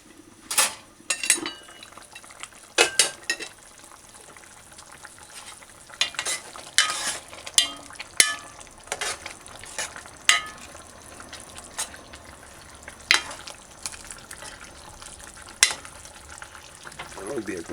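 Chicken gravy thickens in a pot on a stove turned up high, with a soft simmering bubble and repeated scraping and clinking from a utensil stirring against the pan at close range.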